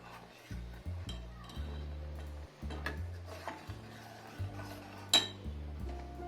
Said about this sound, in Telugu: ఇప్పుడు మనం తీసుకున్న గోధుమ పిండి ఉంది కదండి ఇది మెల్లగా వేస్తా కలుపుకోవాలండి